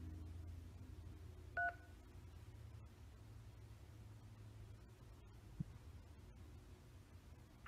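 A single short telephone keypad DTMF tone beeps once as a number is pressed during an automated phone call, over a faint, low steady hum on the line.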